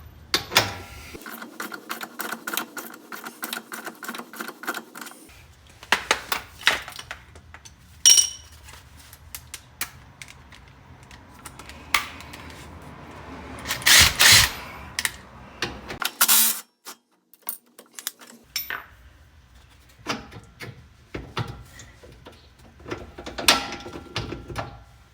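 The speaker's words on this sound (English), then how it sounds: "Okay, so this is gonna take two 18mm sockets." Two 18mm sockets work loose the lower control arm bolts on a third-generation F-body Camaro. Ratchet clicks and metallic clanks of tools and parts come in irregular close bursts, with quiet gaps between them.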